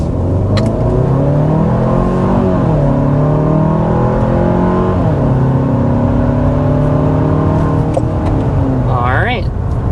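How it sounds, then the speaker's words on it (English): A 2027 Hyundai Santa Fe three-row SUV accelerating hard up to 60 mph, its engine note climbing through rising sweeps and dropping at each gear change, loud and close throughout, with a voice speaking over it. "we need to go ahead and start with a hard acceleration"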